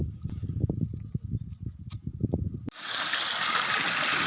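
After some low background murmuring, a steady rushing, bubbling hiss of boiling water fills the rest of the clip.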